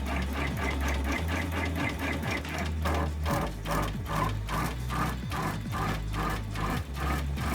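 An embroidery machine sews a base stitch onto T-shirt material in a hoop, its needle hammering out a fast, steady mechanical rhythm of clacks and whirs, close and continuous.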